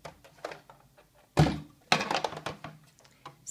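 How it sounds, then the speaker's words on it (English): A Big Shot die-cutting machine presses a card through with a thin cutting frame, giving a few close, heavy mechanical thunks and rolling clunks with short gaps between them, and no talking. "Then I'm going to bring back in my Big Shot."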